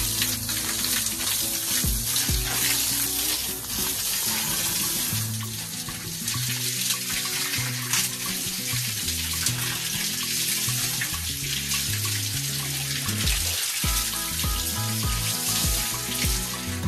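Water is sprayed onto fresh plaster from a hose or tap, making a continuous hissing, splashing rush that runs steadily for the whole stretch with low rumbling underneath.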